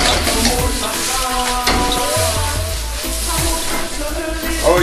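Chopped chicken sausages and vegetables for a Jamaican pasta stir fry sizzle steadily and loudly in a hot pan, with occasional stirring scrapes throughout.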